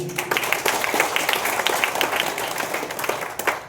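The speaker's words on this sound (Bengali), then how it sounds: "নিজের জন্য নিজের একটা তালি দিয়ে দেন।" Brief burst of audience applause, many hands clapping in a dense, steady patter at moderate volume, with no talking over it.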